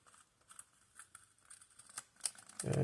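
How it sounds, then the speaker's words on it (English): Scissors cutting post-form plastic laminate along a marked line, a faint series of small snipping and crinkling clicks, close and quiet, ending with a louder handling noise. "this is post-form laminate, so it cuts actually really easily"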